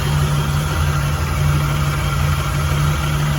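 A 1951 Chevy 3100 five-window short-bed pickup with a swapped small-block V8, aluminum radiator and electric cooling fan runs at a steady idle, a close, even engine rumble heard alone.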